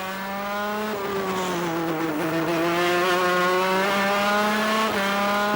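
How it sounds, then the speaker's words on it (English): A racing kart with a 125cc Italian Vortex engine of about 42 horsepower on a 125 BD chassis from French maker Kart gives a loud, close, sustained buzzing whine whose pitch dips and rises slightly, with no talk. "It's a 125cc engine on a 125 BD chassis from Kart, a French manufacturer. It's an Italian Vortex engine which develops about 42 horsepower,"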